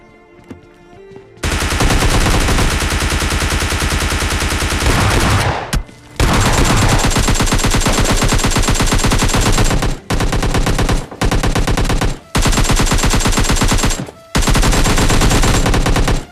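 Sustained automatic gunfire in the video game PUBG, loud and close, coming in long rapid bursts separated by brief pauses after a quieter opening.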